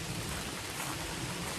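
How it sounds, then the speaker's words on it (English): Steady rain pours down on a flat hiking trail in Big Ridge State Park, a dense, even hiss filling the whole stretch without a break, close and constant, with no voices. "Now if only it would quit raining."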